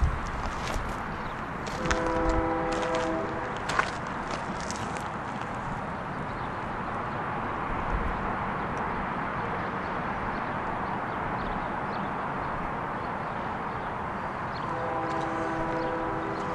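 A distant train horn near the Concordia Cemetery in El Paso, Texas, sounding in two brief blasts, one early and one near the end, over a long stretch of steady outdoor rumble and faint footsteps.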